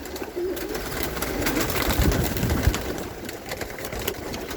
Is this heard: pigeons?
yes